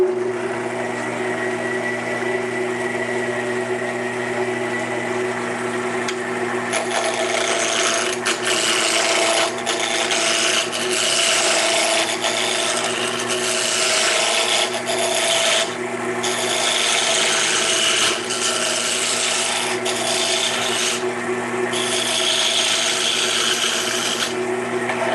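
Wooden bottle stopper blank, about 1.5 inches across and 3 inches long, being rounded on a lathe: a steady loud motor hum with a continuous rough scraping of the tool against the spinning wood, rising briefly in a few spots.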